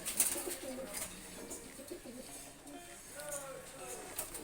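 Female Kamagar pigeon cooing softly after being released, low repeated murmuring calls that stay faint against a busy background with voices talking nearby.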